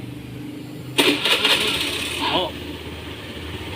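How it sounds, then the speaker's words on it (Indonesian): A motorcycle engine fed carburetor cleaner through an improvised drip line cranks with a rattling, clattering burst, then settles into a steady low idle, with a brief exclamation from a voice. "Sekarang kita nyalain motornya"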